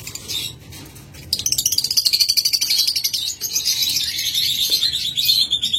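Pet birds for sale, a pair of ewings among them, chirp in rapid, repeated bursts, fairly close and loud, with steady high tweeting over faint background noise.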